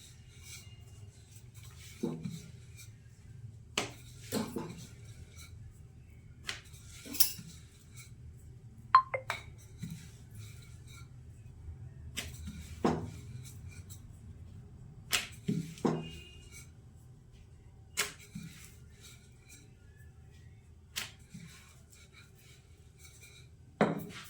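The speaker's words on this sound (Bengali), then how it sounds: "এবার পরোটাটা বেলে নেবো একটুখানি আটা দিয়ে" Cauliflower-stuffed paratha being rolled out with a rolling pin on a floured surface: scattered soft wooden knocks and light taps spaced irregularly over a quiet background, with no voices.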